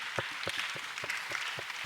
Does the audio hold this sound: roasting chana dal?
no